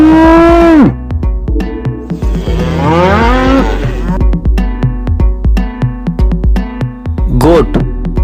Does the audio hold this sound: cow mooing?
yes